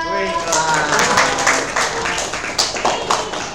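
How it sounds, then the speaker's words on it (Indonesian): Classroom applause for a student during an economics lesson, a dense burst of clapping from many hands with voices talking over it throughout. "Tepuk tangan untuk Naila"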